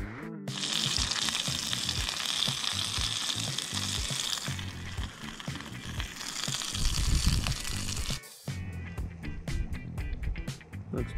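Rainbow trout frying in a pan outdoors on a bikepacking and fly-fishing trip in Idaho, giving a loud, continuous, close sizzle that briefly cuts out and returns, with a faint voice at times.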